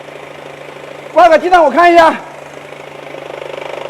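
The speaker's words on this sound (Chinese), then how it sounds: "这个走怠速怎么这么大的声音？" A roughly three-year-old Mercedes-Benz with a suspected faulty flywheel idles under a man's close speech, then a steady rhythmic knocking pulse emerges as the voice stops.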